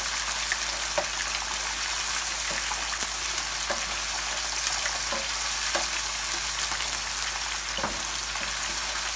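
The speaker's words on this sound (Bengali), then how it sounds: "আগে পেঁয়াজটাকে একটু নাড়া দিয়ে নেই।" Onion frying in a pan for greens, stirred with a spatula: a constant soft sizzle with scattered light scraping taps, no voices.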